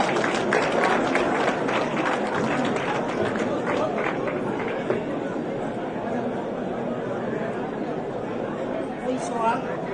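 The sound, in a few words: audience applause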